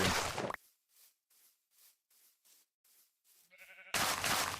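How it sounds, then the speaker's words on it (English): Sheep in the video game Minecraft bleat in a steady series of about nine short, evenly spaced calls, fairly faint and clear against silence, with louder game noise at the start and end. "there's a bunch of sheep around here"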